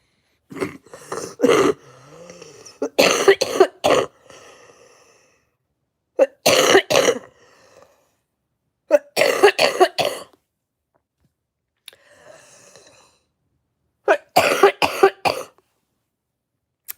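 Several bouts of harsh coughing come in separate bursts with quiet gaps between them, close up, with a bit of throat clearing.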